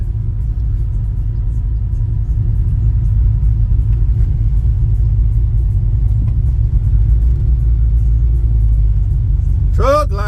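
Heavy trucks drive in a convoy at a truck show, giving a loud, steady low engine rumble heard from inside the cab. A brief high squeal rises right at the end.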